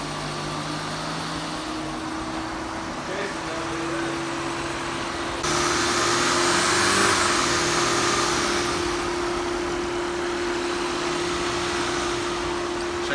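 Rebuilt engine of a flood-damaged 2016 Audi A6 running steadily with a constant hum and whir, then rising into a louder rev midway before settling back, heard up close with no talking.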